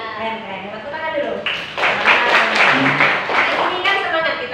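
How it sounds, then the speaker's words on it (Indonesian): A class of students clapping together in a classroom, a burst of applause rising after a teacher's talk and continuing steadily; speech precedes it. "Tepuk tangan dulu"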